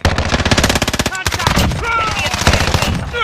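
Rapid automatic gunfire from a Call of Duty Modern Warfare match on the Shoot House map, bursts of fast, loud shots crackling close by, then continuing under a busy mix of game sounds and radio chatter.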